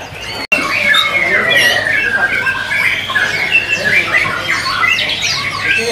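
Many green leafbirds chirping and squawking at once in a kiosk at Pramuka bird market, a busy overlapping chorus close by, with a sharp click near the start and people talking underneath.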